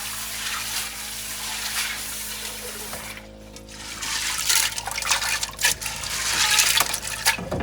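Water runs steadily and fairly loudly over red peas being washed in a kitchen, with a short lull midway before the flow picks back up.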